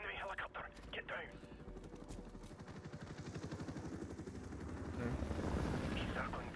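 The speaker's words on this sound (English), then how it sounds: "Enemy helicopter, get down." Enemy helicopter in Call of Duty: Modern Warfare Remastered, a steady rotor thump that grows louder and denser as it circles nearby, with gunfire-like bursts early on and no talk.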